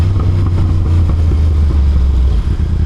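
Yamaha R1 sport motorcycle engine running loudly close by, a steady, throbbing low rumble with slight rev fluctuations over a few seconds.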